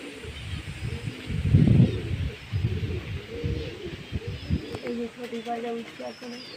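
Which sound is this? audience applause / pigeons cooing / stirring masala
pigeons cooing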